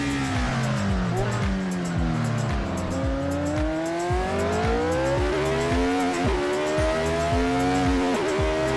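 Fittipaldi McLaren historic race car lapping a track in Assetto Corsa, engine loud and close, revving hard through repeated upshifts and downshifts with rising and falling pitch, brief tire squeal at corners.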